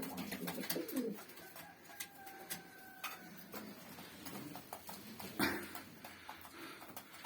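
Young pigeons of a game-bird breed, fresh fledglings just starting to fly, coo softly amid a busy loft with other birds calling, faint ticking and occasional clatter; no speech.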